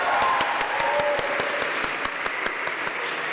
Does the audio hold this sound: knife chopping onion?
no